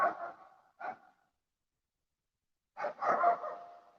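Dogs bark outdoors in a couple of short, breathy bursts at the start, then a pause, then a rougher cluster of barks near the end. Fairly close, no voices.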